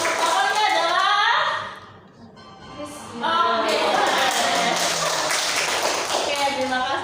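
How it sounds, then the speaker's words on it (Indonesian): Students in an Indonesian classroom clap their hands together in a lively burst, with children's voices and chatter mixed in, then the clapping fades briefly before resuming with talk over it. "tepuk tangan besar"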